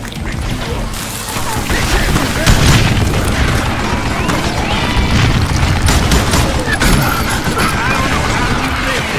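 Mounted gun firing in the Western shooter Call of Juarez Gunslinger, a dense, continuous run of loud booming shots and impacts with no break across the whole stretch.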